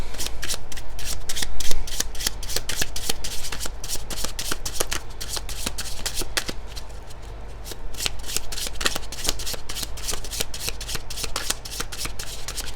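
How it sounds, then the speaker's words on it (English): Rapid, rhythmic riffling and slapping of a deck of tarot cards being shuffled over and over, close up and steady throughout. "As I'm shuffling the deck"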